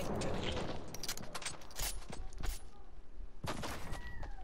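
Gunfire in Fortnite, several sharp shots cracking in quick succession amid a busy battle din, fairly loud, with a few scattered bursts and mechanical clatter between them.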